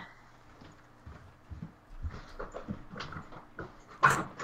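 Puppy in The Sims 3 makes soft, close whimpering and panting noises over a quiet background, ending with one sharper, louder yelp-like burst.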